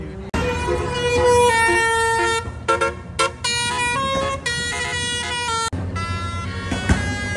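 Fire engine and ambulance sirens wail loudly on a road at night, steady tonal sirens with shifting pitches, passing close alongside traffic noise in Kuantan.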